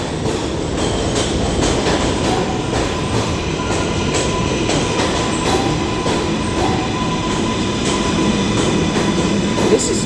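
A crowded subway train rolls slowly along the track, its steady loud rumble and rail noise filling the space from start to finish.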